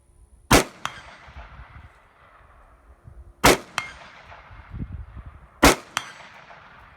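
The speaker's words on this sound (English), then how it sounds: "And we'll shoot that orange plate out there." Three sharp rifle shots ring out a few seconds apart, each followed a split second later by a metallic clang from an orange steel plate at 100 yards, with no talking between them.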